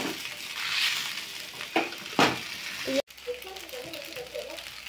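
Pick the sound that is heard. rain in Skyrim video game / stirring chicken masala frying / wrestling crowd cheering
stirring chicken masala frying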